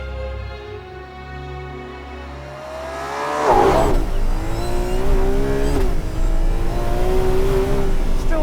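A Ferrari 12Cilindri's V12 engine idles with a low rumble, then revs hard into a loud, rising, sustained howl that holds at high pitch, close up with no talking.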